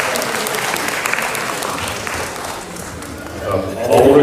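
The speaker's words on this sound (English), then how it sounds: "Give them a wonderful round of applause." Church audience applauding loudly at a Catholic community gathering, a dense steady clatter of many hands that dips slightly midway and swells again at the end.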